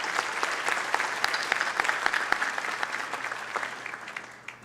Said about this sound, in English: let's give BBVA Compass another round of applause